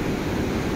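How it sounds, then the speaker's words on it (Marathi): The white-water Seti (White Gandaki) River at Pokhara, Nepal, gives a steady, loud, broadband rush of flowing water with no breaks. "ही ओरिजिनल नदी खालनं वाहते पांढऱ्या पाण्याची"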